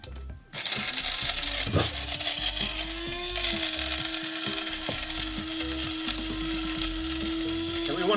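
An electric grinder whirs steadily as dried porcini mushrooms are ground into powder. The motor hum holds a constant pitch over a rattling, crunching churn, loud and close throughout after a brief quiet start.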